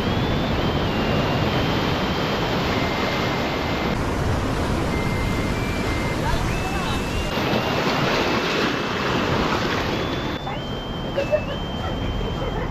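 Strong ocean waves crash and roar continuously at a rocky beach rock formation, with gusting wind buffeting the microphone throughout and faint voices in the background.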